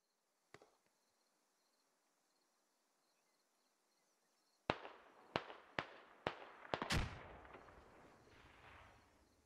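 Explosions and sharp gunfire cracks in the SquadOps military shooter, a distant pop after quiet cricket ambience, then a sudden cluster of loud blasts with a rumbling tail.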